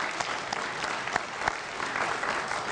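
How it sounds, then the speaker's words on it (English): An audience at an athletics hall of fame ceremony claps for student athletes, a soft, fairly distant, steady patter of many hands with a few sharper individual claps standing out. "So I'm going to clap for you guys."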